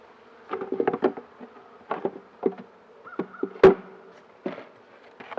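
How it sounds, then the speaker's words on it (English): Honey bees around an open beehive during an apiary inspection make close buzzing mixed with short bursts of wing noise and light knocks, irregular and fairly loud against a quiet background. "These have bees on them."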